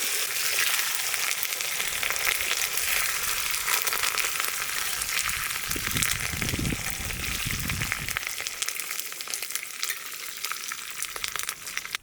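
Dry red chillies and curry leaves sizzle in hot tempering oil for a mixed-vegetable sambar, a close, continuous crackling fry with occasional stirring scrapes and no voices.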